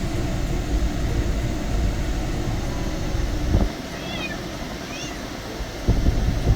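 Pet cats shut in a carrier during a car road trip give two faint, brief meows over a steady, loud road and engine rumble, with a couple of thumps.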